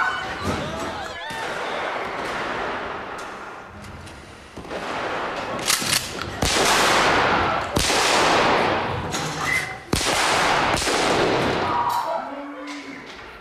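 Repeated sharp firecracker bangs pop out of a loud, noisy background, several cracks in irregular succession, close and startling.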